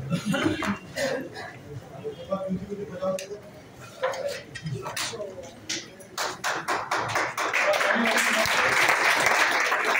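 Workshop audience clapping in a hall, scattered claps and taps turning into louder sustained applause near the end, with someone talking over it.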